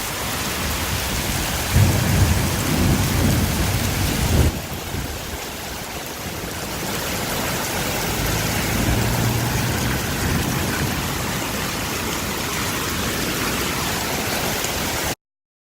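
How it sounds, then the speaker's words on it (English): Very heavy rain and hail pound steadily for the whole stretch in Switzerland, a dense close roar with deep rumbles of thunder rising near the start and again in the middle. "it is raining very hard and hailing"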